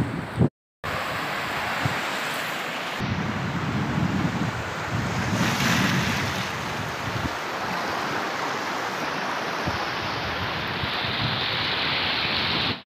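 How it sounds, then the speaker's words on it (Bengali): Sea waves washing onto the shore at high tide, a loud, continuous roar of surf mixed with heavy wind buffeting the microphone, with no voices. "এখন জোয়ার চলছে সমুদ্রে, পাড়েতেও এবার ধীরে ধীরে জল যেতে শুরু করেছে।"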